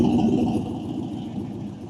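A car with a straight-dump exhaust idles at a cars-and-coffee meet, a low rumbling burble heard at moderate distance, steady and fairly faint without talk.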